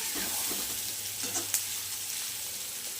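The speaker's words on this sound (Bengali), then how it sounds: "আবার একটু ভেজে নিতে হবে" Pointed gourd and potato fry in oil with onion, a steady, fairly soft sizzle with a few light spatula clinks near the middle, and no voices.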